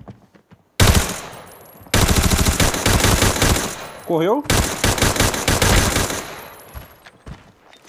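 Heavy bursts of rapid automatic gunfire in the video game Arena Breakout, loud and close, with a short gap and a rising whine in between; a voice speaks briefly.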